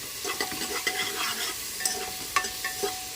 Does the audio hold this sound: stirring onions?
yes